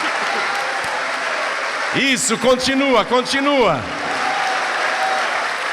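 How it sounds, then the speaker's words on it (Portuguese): A church congregation in Rio de Janeiro applauds in a broad, steady wash of clapping, while a voice speaks briefly over it in the middle. "vamos dar para esta palavra a melhor salva de palmas"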